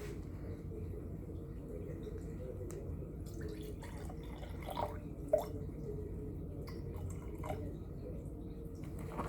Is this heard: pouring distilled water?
yes